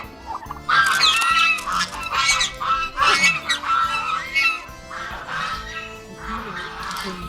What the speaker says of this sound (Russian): Утки, гуси, они спокойно это кушают.